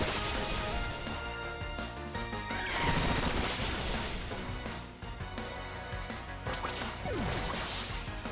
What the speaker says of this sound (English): I'm gonna use that bullet seed.